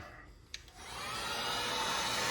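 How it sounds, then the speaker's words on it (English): A cheap Harbor Freight heat gun blows steadily on heat shrink tubing for a custom battery cable, a click followed by a loud, constant airy roar that fills the rest of the clip. "just using my cheap Harbor Freight heat gun, it's perfect for this"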